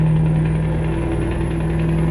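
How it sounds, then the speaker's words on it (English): Steady low drone of a Scania S Series 730 V8 truck engine with open pipes, heard from inside the cab while driving, with a strong constant hum and no voices. "It's a V8 open pipe engine. You can hear it actually."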